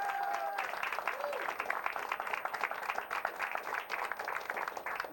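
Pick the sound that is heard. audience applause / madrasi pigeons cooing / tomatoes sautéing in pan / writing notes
audience applause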